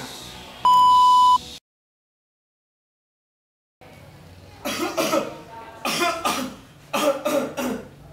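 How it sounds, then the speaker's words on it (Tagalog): A short electronic beep, a stretch of silence, then a series of rough coughs in uneven bursts, close to the listener. "inuubo ka ba?"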